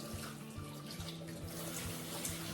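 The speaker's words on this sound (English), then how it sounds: "wash my hands" Hands washed under a running kitchen tap while preparing Chinese preserved greens from nasturtium leaves and radish greens: a steady, close splashing stream of water with no talk.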